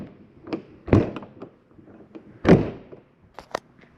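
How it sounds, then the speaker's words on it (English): The exterior entry door of a 2024 Jayco Jayfeather 199MBS travel trailer is shut and locked, with two solid thunks and several lighter clicks and taps from the latch and deadbolt, close by and without talk. "lock and deadbolt this door, lift and turn this handle."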